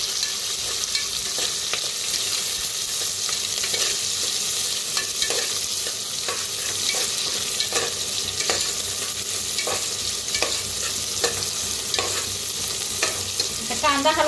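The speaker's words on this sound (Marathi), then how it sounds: "कांदा हलकासा भाजत आलेला आहे, त्याच्यातच टाकूया बटाटो." Onion frying in oil with garlic, green chili and curry leaves in a home kitchen: a steady close sizzle with repeated scraping stirs at an irregular rhythm, no talking.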